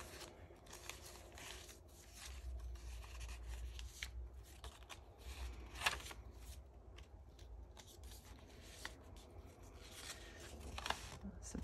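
Quiet, close crinkling and rustling of crinkly coffee-dyed paper being handled, soft crackles continuing steadily throughout.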